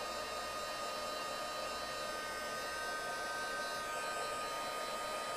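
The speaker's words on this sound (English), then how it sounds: "I'm going to give it a quick dry because it is pigment ink, so I'm going to dry up the white powder" A heat tool blows a constant loud whoosh, drying pigment ink and melting white embossing powder on a papercraft card, unbroken throughout with no talk.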